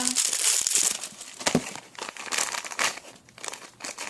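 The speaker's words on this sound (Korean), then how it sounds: "이건 비닐봉지고요." A plastic bag is opened and handled, giving continuous close, dense crinkling and rustling with a few sharper crackles throughout.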